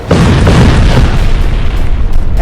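A loud, booming explosion rumbles with a heavy low roar that sustains and churns for a couple of seconds.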